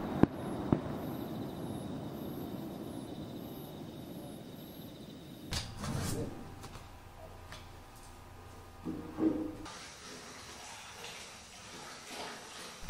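A local village fireworks display at a rural Japanese hometown during the Obon holidays: a sharp whistling launch, then distant crackling bursts and scattered pops that swell and fade in irregular clusters.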